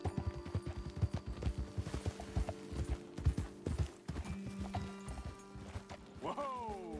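Horses' hooves clip-clop on a ride, a fairly loud, rhythmic series of knocks for most of the stretch, over a steady tonal music bed, with a rising swell near the end.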